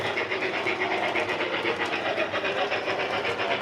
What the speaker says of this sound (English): so let me hook that up to the passenger train